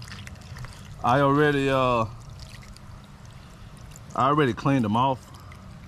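Liquid cleaner pours from a bottle with a steady, hissing trickle throughout, while someone speaks over it in two short phrases.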